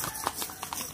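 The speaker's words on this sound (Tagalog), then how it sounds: "Ayan, kabayo." Horse hooves clip-clopping on a road, a few faint, irregular hoof knocks spread across a second, fairly distant and with no talk.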